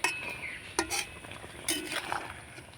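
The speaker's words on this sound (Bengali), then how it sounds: "লাল লঙ্কার গুঁড়ো এবার আমি নাড়াচাড়া করে নেব" Raw mango pickle with red chili powder is stirred in a pan, cooking gently in sugar syrup over low heat, giving a few close, separate spoon scrapes and light metallic clinks against the pan.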